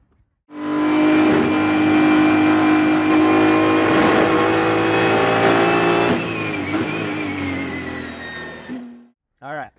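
A race car engine at Road America holds a loud, steady high-revving drone as it accelerates from turn 13 toward turn 14, then the pitch shifts and the engine cuts off abruptly near the end.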